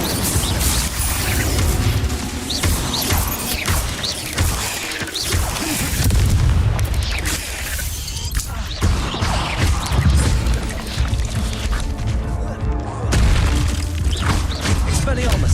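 Loud booming blasts and crashing impacts from Incendio fire spells cast in Hogwarts Legacy, repeated through a busy stretch of combat, with a voice shouting spell names over them.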